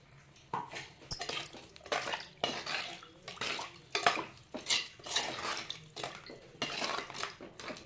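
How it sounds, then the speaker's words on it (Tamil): Water poured from a jar into field bean gravy cooking in a clay pot, making repeated splashing gushes with clinks of the vessels, close and fairly quiet, with no talking. "இப்போ இந்த ஜார்லேயே தண்ணி வச்சுருக்குறோம், அதை எடுத்து சேர்த்துக்கலாம் தண்ணியை."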